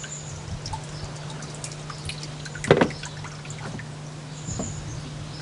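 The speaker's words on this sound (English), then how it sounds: "Let some of the water run off." Water trickles and drips softly from a wet mass of paper pulp, with one brief louder splash midway over a low steady hum.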